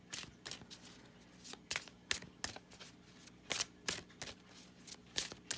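Oracle and Lenormand cards are shuffled and riffled by hand, producing a series of sharp, papery flutters and slaps in irregular bursts, close and fairly quiet, with no talk over them.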